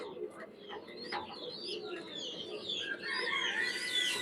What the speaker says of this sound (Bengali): এই যে আমার মাক্সি কবুতর